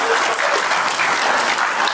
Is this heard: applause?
yes